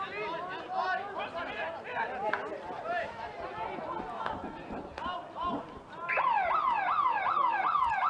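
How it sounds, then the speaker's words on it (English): A hockey stadium siren marks the end of the first half in a men's Super League match, sounding as a loud, rapidly wailing tone over a bed of crowd chatter in the final two seconds. "And that siren signals the end of the first half."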